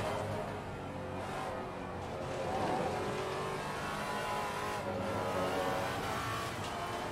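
A Maserati MC GT4 race car in Assetto Corsa Competizione roars steadily at high revs, its engine note swelling and easing as it drives, loud and continuous throughout.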